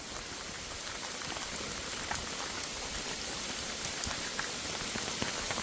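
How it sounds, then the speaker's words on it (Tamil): Steady, stormy rain pours outdoors at a former training camp in Mullaitivu, a close, dense patter of drops hitting surfaces with no break and no voices. "மழை பெய்யுது, இந்த புயலும் தானே"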